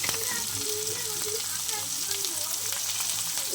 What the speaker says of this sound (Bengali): পেঁয়াজ আর কাঁচা লঙ্কা বেগুন একবারে দিয়ে দিলাম